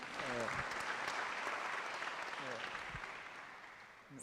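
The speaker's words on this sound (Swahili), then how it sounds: "Makofi kwake." An audience at a national youth dialogue on elections in Kenya claps for a speaker, a dense continuous round of applause, with a voice speaking briefly over it.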